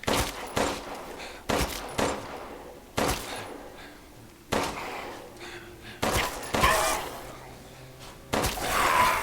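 Repeated gunfire from the Resident Evil Village video game, a rapid series of loud, sharp shots in bursts across the whole stretch, close and dominant with no talk.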